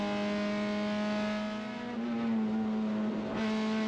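Race car at Lime Rock Park racing late in the race, heard from onboard as a loud, steady engine drone with strong harmonic tones that dip briefly and rise again as the car accelerates, no talking.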